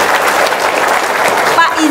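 A studio audience applauds, a dense steady wash of clapping held at full strength for a couple of seconds with voices mixed in.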